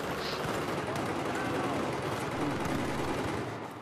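Dense gunfire from the Battlefield 4 beta fills the scene in a loud, continuous barrage of rapid shots and blasts with no pause, and a player's excited voice sits beneath it.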